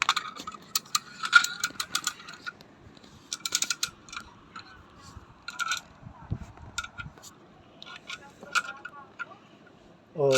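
A ratchet wrench fitted with an adapter on a car tire jack clicks in quick bursts of sharp, metallic ticks, pausing and restarting, close and fairly loud, with faint voices in the background.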